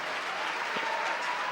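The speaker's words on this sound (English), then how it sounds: "Earns appreciation from the crowd for that." A crowd applauds at an ice hockey game between the Nottingham Panthers and Clan, a steady wash of clapping that fills the arena for the whole moment, with no clear voices over it.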